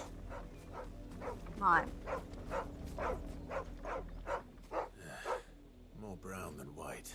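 A dog barks repeatedly in the Final Fantasy XVI video game, a run of sharp, evenly spaced yaps and whines at close range, overlapping with a voice and game dialogue.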